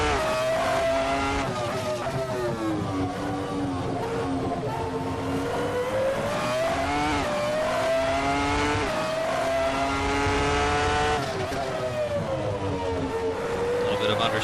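A Ferrari F310 race car engine in Assetto Corsa howls at high revs, rising and falling with gear changes and corners, loud and continuous, with someone talking over it.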